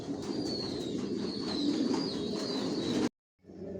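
Racer pigeons coo steadily in a loft, their low rolling calls overlapping close by for about three seconds before a sudden cut and a brief quieter return.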